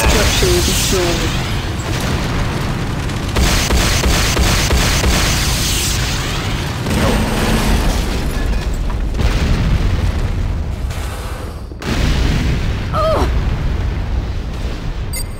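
Structures being destroyed in the game Renegade, heard as loud, continuous booming and rumbling explosions, with a short game voice announcement partway through.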